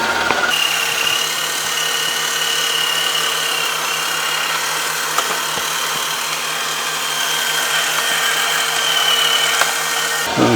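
CHUWI iLIFE V5 Pro robot vacuum running at maximum suction, a loud constant whirring motor drone with a steady tone, close by and unbroken.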